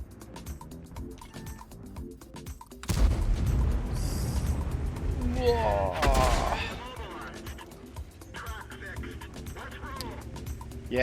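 A tank gun fires in the game World of Tanks, one heavy roaring blast followed by a long mechanical rumble and creaking, with someone talking before and after.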